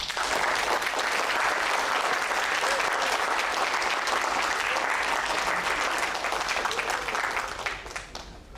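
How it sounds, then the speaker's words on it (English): An audience at a creative talk at TARUMT breaks into steady, dense applause that fills the room for about eight seconds before tapering off at the end. "Can you clap again?"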